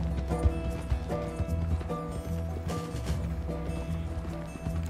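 Horse hooves clip-clopping in Red Dead Redemption 2, a steady rhythmic patter of hoofbeats under a continuous bed of background music and ambience, moderately close, with no talk.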